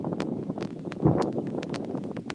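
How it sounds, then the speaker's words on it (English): Gusty wind buffets the microphone in rough, uneven bursts outdoors while channel catfishing, with a low rumble and rustling underneath and no one talking. "It's pretty windy out here"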